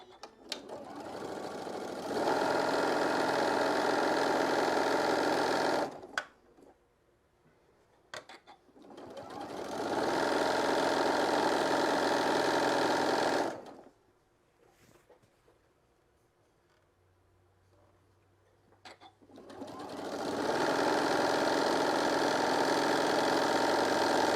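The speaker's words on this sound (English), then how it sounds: "I'm just going to sew it a 1/4 inch all the way down." A sewing machine runs a quarter-inch seam along the edge of a shoulder wrap in three long, steady bursts of fast, even whirring, broken by short quiet pauses; the sound is close and there is no talk.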